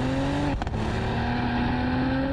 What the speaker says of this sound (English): put your foot into the throttle. And there is more engine noise than you might imagine.